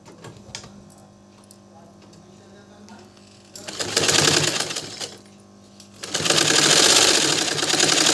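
A sewing machine stitches the neck of a kameez in close, loud bursts of rapid rattling, with a softer stretch between them, while someone talks over it.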